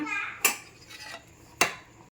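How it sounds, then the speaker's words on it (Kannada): A lid is set onto a pot of ghee rice, giving two sharp metallic clanks about a second apart over a faint background, with a short drop to silence at the end. "ಈ ಟೈಮಲ್ಲಿ ನಾವು ಲಿಡ್ನ ಕ್ಲೋಸ್ ಮಾಡೋಣ"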